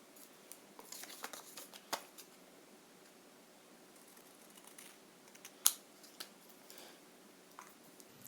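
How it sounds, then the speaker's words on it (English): Scissors trim paper card for a handmade coffee cup greeting card, giving faint, sparse snips and light clicks in a quiet room. "And then I'm just going to take scissors and I'm going to leave a very small edge"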